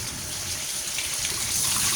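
Tap water runs steadily while green onion, ginger, garlic and other vegetables are washed, a continuous close splashing gush with no voices.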